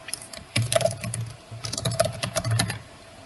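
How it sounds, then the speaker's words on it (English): Quick bursts of typing on a computer keyboard, close and clear, with short pauses between flurries of keystrokes. "typing that on my computer"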